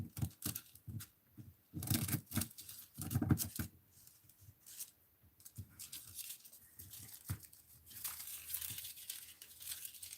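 A mixed media art kit piece being cut, with close, soft crinkling and tearing-like rustles of paper or card, broken into short uneven bursts with brief pauses and no voices.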